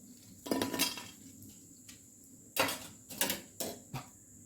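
A snack made from leftover dosa batter is scooped into a bowl, giving several sharp, close clinks and clatters of utensils against dishes in an irregular burst, separated by quiet gaps.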